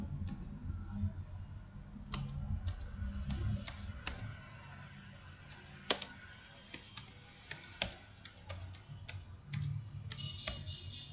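Computer keyboard keys being typed in short irregular bursts of clicks, fairly close, with low background hum and no talking.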